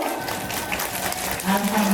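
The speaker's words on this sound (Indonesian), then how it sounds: "Kasih tepuk tangan Bapak Ibu." An audience at a mosque Muharram celebration claps for children who won a colouring contest, a short spell of moderate applause with voices murmuring underneath.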